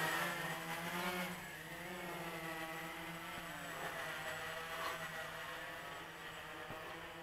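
A Walkera QR-X350 Pro quadcopter drone flies at a distance with a steady, fairly quiet buzzing motor whine that shifts slightly in pitch as it moves, with no talking over it.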